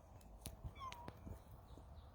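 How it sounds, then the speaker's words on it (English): A cat meows a few times indoors, short faint calls at moderate distance over a quiet room background. "That's a cat."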